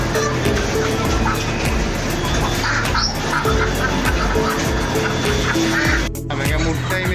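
Live country chickens crowd a busy market, with steady clucking and squawking from many birds under a dense bustle of shoppers' voices and clatter, continuous and close throughout.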